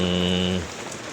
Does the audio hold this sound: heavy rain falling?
yes